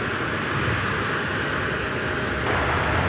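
Delta Boeing 757, an old ex-TWA jet, arriving at LAX, its engine roar a steady broad rumble that holds level throughout and lifts slightly near the end.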